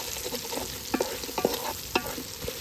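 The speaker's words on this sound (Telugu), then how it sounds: "మన చికెన్ ఫ్రై అయితే రెడీ అవుతుంది గాయస్." Chicken fries in oil in a pan outdoors at a palm oil plantation, with a steady sizzle and irregular scraping stirs of a utensil against the pan, close up and without talk.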